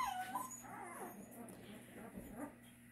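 Newfoundland puppies, two brown females, whimper and whine softly in a few thin, high cries, with quiet indistinct talk and room noise underneath.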